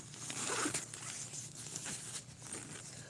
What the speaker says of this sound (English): Zippers is kind of hard.